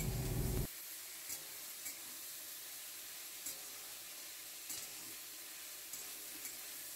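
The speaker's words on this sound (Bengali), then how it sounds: "বেগুন, পেঁয়াজ আর রসুন একসাথে ভেজে নেওয়া হবে।" Eggplant, onion and garlic fry together in a pan, a steady hiss of sizzling oil after a brief louder burst at the start, broken by occasional soft stirring scrapes.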